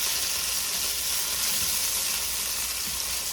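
Potatoes fry in a greased pan with chili powder, giving a steady, loud sizzle with soft scraping as they are stirred around, and no voices.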